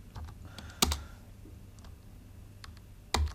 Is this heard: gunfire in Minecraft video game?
no